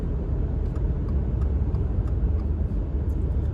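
Steady low rumble of a 2024 Subaru Crosstrek Wilderness with a CVT automatic and all-wheel drive under way, with continuous road and engine drone and faint cabin noise, without speech.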